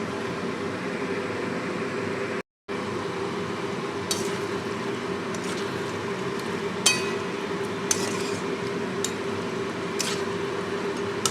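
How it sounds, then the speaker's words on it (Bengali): Fish sautés in a pan on a gas stove with a steady low sizzle, while occasional light clinks and scrapes of stirring come through against the hiss over several seconds. "এবার আমি মাছটাকে ভালো করে কষিয়ে নেব।"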